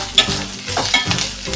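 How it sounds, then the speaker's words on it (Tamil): Sliced onions sauté in a hot pan for a South Indian onion chutney. Soft sizzling runs under a few scraping stirs of a spatula, close and brief, with no voices. "வெங்காயம் நல்லா வதக்கிட்டு இருக்குது."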